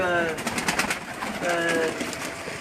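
Breeder pigeons of the Mehr Sahab line, kept in Karachi, coo in repeated soft, throaty rolls that carry on throughout at close range.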